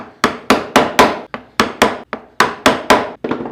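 A medium wood chisel is struck repeatedly with a mallet while carving wood, a dozen sharp, evenly spaced knocks, each with a short decaying ring, loud and close.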